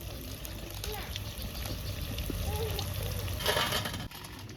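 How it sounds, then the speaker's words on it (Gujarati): Manchurian balls deep-frying in hot oil at home, a steady close sizzle with bubbling running throughout and a brief louder burst near the end, a voice speaking over it. "હવે છે ને તેલ મૂકી દીધું છે ને હવે આપણે તળવાની છે આ ગોટી"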